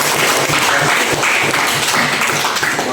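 Students in a high school history classroom clap together, a dense, steady burst of applause filling the room close by for a few seconds.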